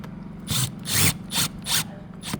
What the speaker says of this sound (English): Put longer screws in while I'm up here.